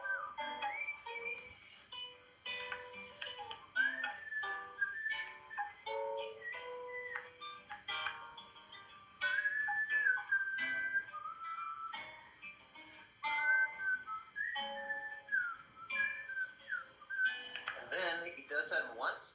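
A man whistles a short melody imitating the instrumental solo section of a Paul McCartney song, clear tonal whistled phrases recurring across the clip, interleaved with his speaking.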